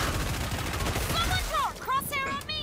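Rapid automatic gunfire from Killing Floor 2 rattles loudly in dense bursts, joined midway by sharp whooshing and zapping game effects, with no voice over it.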